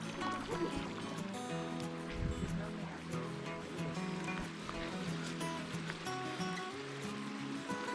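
Hot spring water flows and gurgles at Ban Sang in Xieng Khouang, Laos, giving a continuous rushing, splashing wash heard close up, with a faint tonal hum mixed in.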